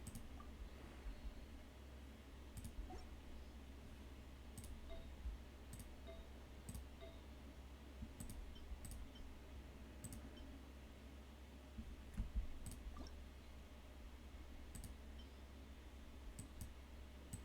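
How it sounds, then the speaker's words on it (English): Faint, sharp computer mouse clicks sound one at a time, spaced roughly a second or two apart, over a low steady hum with no one speaking. "Oh, you can hear the clicking."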